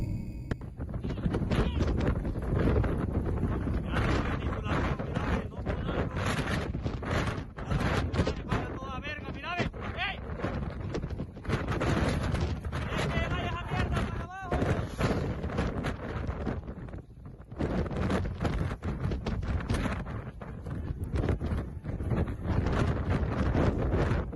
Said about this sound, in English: I had no idea wind could get this bad so fast.